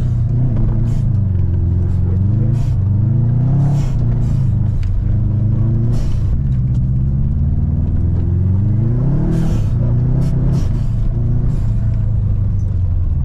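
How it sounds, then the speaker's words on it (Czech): A Subaru's turbocharged engine revs and accelerates repeatedly in loud, close rising sweeps, the boost building and dropping between gear changes, with a rumbling undertone. "jak se nafoukne to turbo, to je neskutečné"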